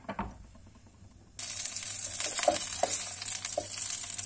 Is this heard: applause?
no